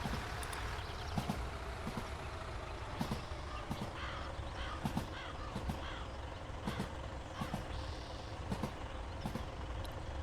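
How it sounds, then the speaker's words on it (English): A loud crow caws repeatedly in Japan, near the Hidaka Main Line railway, its harsh calls recurring at irregular intervals over a constant low rumble of background noise. "It's a very loud crow."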